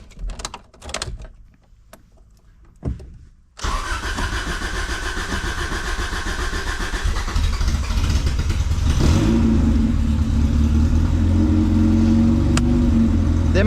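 Honda CRX engine starting for the first time after a rebuild: a few clicks and brief cranking, then the engine catches and settles into a loud steady idle that rises slightly and holds, close by.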